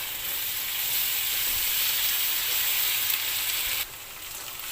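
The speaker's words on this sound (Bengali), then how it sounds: "এখন এটাকে আমি একটু ভেজে নেব 2 মিনিট।" Ginger and garlic paste fries in a pan for chicken curry, a loud steady sizzle close by that drops in level near the end, with no talk.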